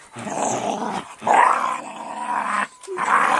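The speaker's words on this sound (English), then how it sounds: "Dogs are biting me!" Dogs growling in a rough, rising and falling snarl across several bursts with brief gaps, close and fairly loud, with a short whine near the end.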